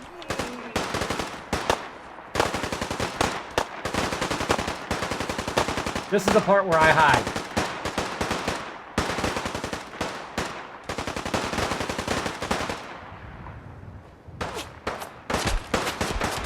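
Rapid bursts of automatic gunfire in the video game Fallout 4, loud and repeated in clusters with short pauses, while a person talks briefly over them.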